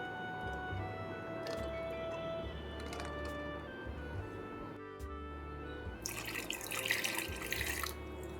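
Water pours steadily from a tap into a cooking pot holding eggs, a continuous splashing stream at close range that grows briefly louder and brighter toward the end.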